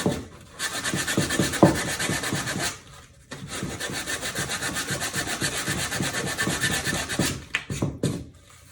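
A foam core shoe sole being sanded by hand, with steady rhythmic back-and-forth rasping strokes close up, a brief pause near the third second, then continued scraping that breaks into a few short strokes at the end.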